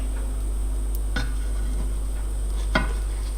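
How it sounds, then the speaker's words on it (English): A pancake flipped in a pan gives two soft, quick thumps and scrapes against the metal, set over a steady low hum and quiet kitchen background. "Now you are going to flip your pancake."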